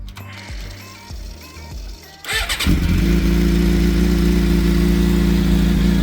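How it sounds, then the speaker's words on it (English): A Suzuki GSX-R 750 sport motorcycle engine cranks and fires up, then settles into a loud, steady idle after a few seconds of mechanical clicking. "let's turn the bike on"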